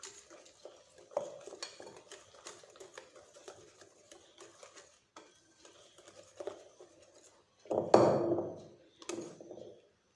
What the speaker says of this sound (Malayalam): 1 ടേബിൾ സ്പൂൺ പാൽ ചേർത്തിട്ട് നല്ലപോലെ ഒന്ന് മിക്സ് ചെയ്യാം.